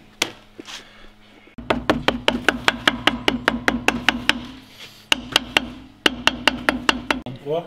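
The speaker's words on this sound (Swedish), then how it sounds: "Lars ska hämta en hammare här nu och banka ut en ny packning här." A hammer taps out a new paper head gasket on a workbench for a 95-year-old car, a steady run of sharp knocks, roughly a dozen blows, a short pause, then several more, with faint talk at the start.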